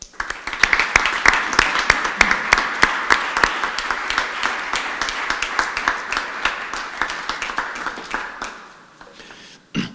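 An audience at a poetry recital in a museum applauds to welcome a poet, with dense, steady clapping from a roomful of people that fades out near the end.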